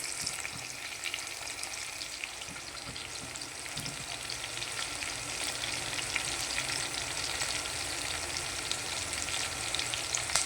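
Onions frying in oil until golden for tomato rice, a dense, even crackling sizzle that carries on unbroken and fairly soft from start to finish, with no voices.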